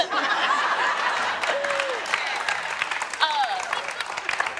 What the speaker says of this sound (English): Clap that.